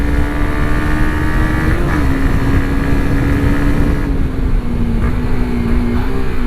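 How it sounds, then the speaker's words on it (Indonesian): A Honda CB150X sport touring adventure motorcycle accelerates along a straight, its steady engine tone rising slightly then holding, loud and close with constant wind rush over the microphone throughout. "Kita gas dulu nih lurusan, kita tes tenaganya."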